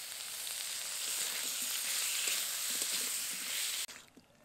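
Masala sizzles steadily in a hot pan with salt, turmeric and chopped tomato, a close, continuous frying hiss with faint stirring ticks that cuts off abruptly near the end.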